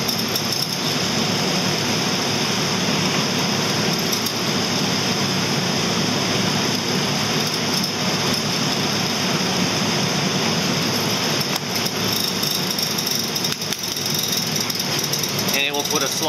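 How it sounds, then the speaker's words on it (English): A mortiser chiselling a slot into a wooden board to take a tenon: a continuous loud rattling, pounding machine roar with no letup, and a person talking over it. "it will put a slot in the board to accept the tenon on the other board"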